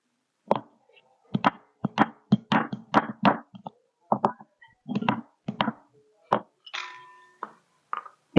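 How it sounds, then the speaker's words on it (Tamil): Turmeric is pounded on a traditional stone grinding slab with an old stone pestle, giving a series of sharp, close thuds in irregular bursts and short pauses, and a voice speaks briefly near the end. "இப்ப மஞ்சளை நான் இதுல தட்டுறேன்"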